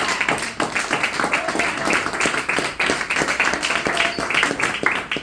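A church congregation claps and applauds together, a steady dense patter of hands filling the room at moderate loudness, with voices mixed in beneath the clapping.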